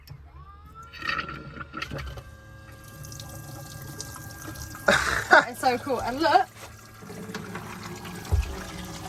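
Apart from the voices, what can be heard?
water pump running water into camper sink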